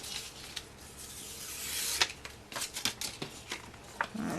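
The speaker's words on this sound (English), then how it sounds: "And then I'm going to peel this off." A piece of cardstock is peeled away by hand: a close, soft papery rasp that builds and tears free, followed by a few brisk rubbing and rustling strokes, with no talking.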